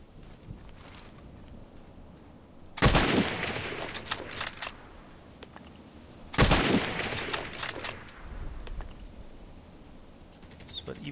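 SCAR-L rifle fire in a shooter video game: two loud, close bursts of shots several seconds apart, each trailing off into a long echoing decay over a quiet background.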